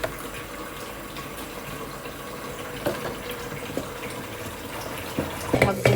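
Tap water runs steadily into a kitchen sink while dishes are washed, a continuous close splashing flow with a few brief clatters near the end.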